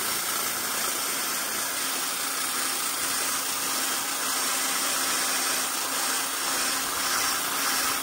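A power drill runs steadily and loudly, its even whirring drone holding without a break for several seconds.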